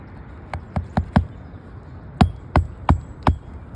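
Hammer blows drive nails into roof shingles during a shingle repair, a quick run of four sharp strikes, a pause, then five more evenly spaced, close and crisp.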